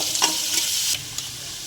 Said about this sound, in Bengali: পেঁয়াজটা দিয়ে দিলাম। পেঁয়াজটা একটু ভাজা ভাজা হয়ে আসবে।